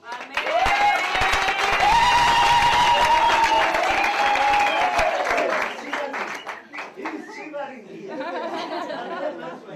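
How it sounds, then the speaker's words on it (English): Wedding guests burst into applause and clapping, a loud dense wash of hands mixed with crowd chatter and a strong voice or tones riding over it before the clapping thins out. "Clap hands for him."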